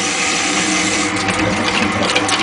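A homemade motorized shaker rig rattling a shake flashlight is revved up, giving a loud, dense, rapid mechanical buzz and clatter close by that intensifies partway through, with no talking.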